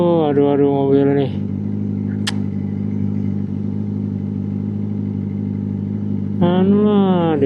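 A car passing along a street near a Kawasaki workshop in Palembang gives a steady engine drone for several seconds, with people talking nearby before and after it and a brief high whistle partway through.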